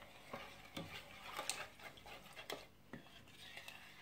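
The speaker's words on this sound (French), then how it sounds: "Je mélange bien." A spoon stirs a mixture of oil, yeast and sugar in a bowl, making quiet scraping and clinking taps in an irregular rhythm, close up and faint.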